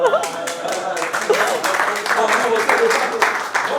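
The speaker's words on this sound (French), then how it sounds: "Applaudissements." A workshop audience at a soft-skills leadership session bursts into applause, a dense, lively patter of many hands clapping together close by, sustained for several seconds with some voices mixed in.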